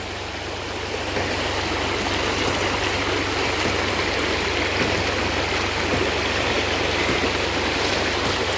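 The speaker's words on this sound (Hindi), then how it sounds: "स्पीड से आपको समझ में आ रहा होगा कि कितना पानी फ्लो करके गांव के अंदर आ रहा है।" Fast floodwater pours into Jawaniya village after heavy flooding, making a loud, continuous rushing roar that swells after the first second and holds steady with no voices.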